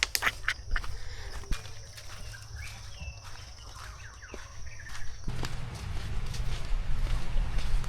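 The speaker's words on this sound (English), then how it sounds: "Can you hear that? All the birds." Faint bird calls and chirps drift through quiet jungle on Koh Rong Island, Cambodia, scattered and distant, with a steady low rumble growing louder toward the end.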